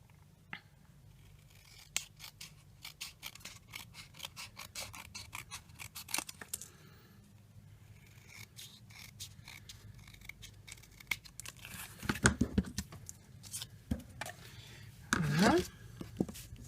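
Scissors trim paper for a denim and pink scrapbook page, a series of close, crisp snips and rustles in irregular bursts, with a sharper cluster of cuts near the end and soft talking in between.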